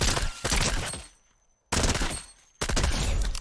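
SMG fire in Fortnite Chapter 4, three loud, close bursts of rapid shots cut apart by short near-silent gaps.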